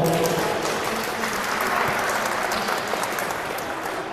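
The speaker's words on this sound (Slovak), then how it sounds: "veľký potlesk pre chalanov" Steady, vigorous applause from a crowd honours the boys at a primary-school mini-football tournament awards ceremony, a dense, even clatter of clapping that lasts without a break.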